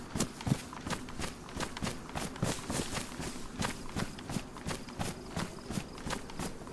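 Footsteps nearby in the survival video game DayZ, a steady run of soft thudding steps close by, faint and rhythmic with no talk.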